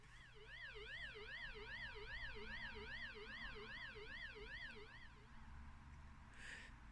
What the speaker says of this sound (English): You've got a fade in and fade out of a siren, which is quite nice.